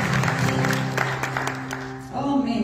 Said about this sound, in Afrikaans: Kan ons 'n hande klap so lank gee vir ons pastoor?